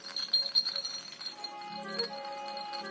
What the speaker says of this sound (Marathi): ही घंटी आपल्याला टाकायचं, आम्हाला उभा करू.